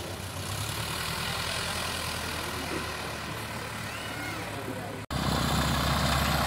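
Small planes idling at an airfield before takeoff, a steady low engine drone with prop hum heard from a short distance, briefly cut then resuming louder.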